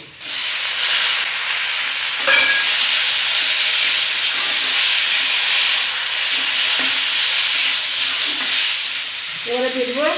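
Coriander, turmeric and cumin powders frying with chopped tomato in a home kitchen pan, giving a loud, constant hissing sizzle with a few faint stirring scrapes and clinks near the end.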